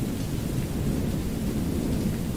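Steady rain with a low rumbling thunder roll in an in-development video game, a continuous dense wash holding even and fairly loud throughout with no voices.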